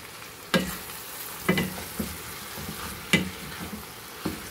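Chicken adobo sizzles and simmers in a pan at close range, a steady bubbling hiss broken by several sharp clinks and scrapes of stirring, with no one speaking.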